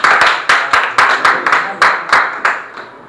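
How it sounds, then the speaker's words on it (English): A small classroom group claps in loose unison, about a dozen firm, close claps in a regular beat that fades slightly between strokes. "Give him a big round of applause."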